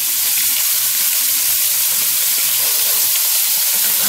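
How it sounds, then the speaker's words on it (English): Blackened catfish frying in butter in a pan gives a loud, close, steady sizzle with constant crackling and spitting, with no voices over it. "That's what's going to really blacken is the butter as it cooks."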